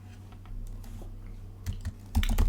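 Fingers type code on a computer keyboard, giving soft, quick key taps close by. A few louder clacks come near the end.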